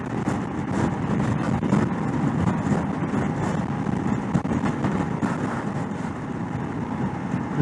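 A Royal Enfield Himalayan 411 motorcycle cruising in fifth gear, a steady, dense engine and road drone with heavy wind buffeting across the microphone, continuous and unbroken throughout.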